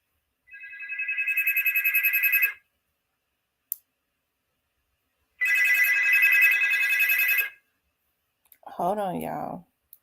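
A telephone rings in two long electronic trills with a pause between them, clear and close in an otherwise quiet room, followed by a brief spoken voice.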